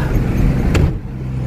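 A road traffic jam of stopped, overloaded trucks near the Losarang weighbridge: a heavy low engine rumble with one short, sharp hiss partway through, then a quieter idling drone, and no talk.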